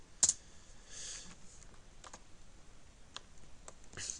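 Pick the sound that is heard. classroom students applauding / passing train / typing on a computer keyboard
typing on a computer keyboard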